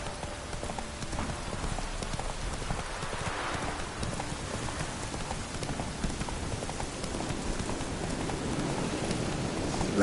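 A horse's hooves clip-clop at a steady rhythm as a rider urges it on, close and clear over a soft, rain-like background hiss.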